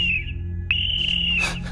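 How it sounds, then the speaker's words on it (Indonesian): A shrill, steady whistle sounds in two blasts, a brief one and then a longer one, calling people to assemble on a field at night in a horror radio drama. "Dari kejauhan terdengar bunyi peluit tanda berkumpul."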